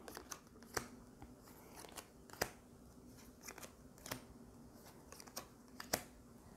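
New cards are turned over in a solo game of Demeter, giving a series of faint, crisp flicks and light taps at irregular intervals against a quiet room.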